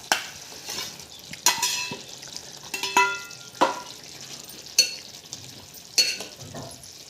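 Paneer stirred into a frying masala with fresh curd, soft steady sizzle under repeated sharp clinks of a spoon against the pan at a slow, regular pace.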